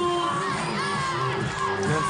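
A dense, loud home crowd roars and shouts at a women's beach volleyball world championship match in Rotterdam, sustained cheering after a point with high excited voices throughout.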